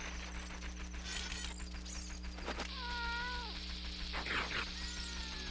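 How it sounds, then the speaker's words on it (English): A house cat meows several times, drawn-out and insistent, fairly close over a faint steady background hum, with no talking. "There's a cat."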